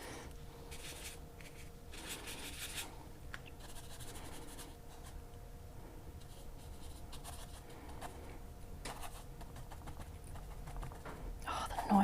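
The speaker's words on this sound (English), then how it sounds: "Noise of brush on paper is just so deeply satisfying." Paintbrush stroking on paper during a painting of a Monet-style scene, faint close swishes and scratchy rubs in irregular bursts over a quiet background.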